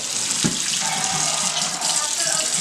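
A kitchen tap runs steadily into a sink while something is rinsed off during cooking, with a bright, close splashing flow and a brief clunk near the start.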